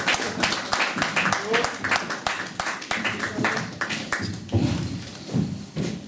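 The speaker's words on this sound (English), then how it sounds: "give a warm round of applause for Right Honourable Wartime Prime Minister, Mr Winston Churchill" Audience applause for a speaker introduced as wartime Prime Minister Winston Churchill: a dense, steady crowd clapping filling the space for several seconds, then thinning as the crowd settles and a voice begins.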